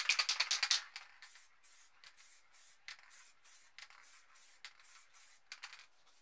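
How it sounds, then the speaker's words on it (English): White spray paint is sprayed lightly from an aerosol can during spray paint art: a quick cluster of short hissing bursts, then softer, intermittent puffs of spray. "So grab the white and we're just going to lightly spray it here."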